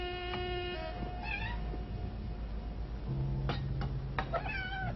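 A cat meows several times in short, wavering calls, fairly close and clear over a low background hum, with no speech.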